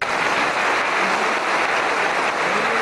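Sustained applause from an audience at a political ceremony attended by Turkish party leaders and ministers: a dense, steady wash of many hands clapping that fills the whole stretch evenly, close and full, with no voices rising above it.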